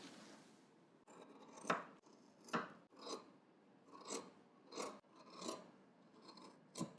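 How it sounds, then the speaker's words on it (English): Scissors snip through the seam allowance of a double-breasted jacket lapel in a string of about eight crisp, close cuts with short pauses between them. "we're just going to trim some of this off here"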